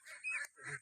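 Ducks raised in the open on a small farm give two nasal, honking calls in quick succession, close by and fairly clear with no talk over them.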